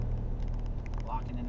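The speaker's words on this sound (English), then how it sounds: "we are coming out of 7, accelerating up the hill" A race car on a track powers out of turn 7 and climbs a hill, its engine a steady close-up drone with low rumbling throughout.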